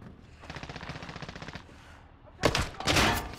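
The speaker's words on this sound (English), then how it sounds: "Taking fire!" Rapid automatic gunfire in Call of Duty Modern Warfare: a sustained burst of fast, evenly spaced shots, a short pause, then louder, heavier blasts up close, with no talking.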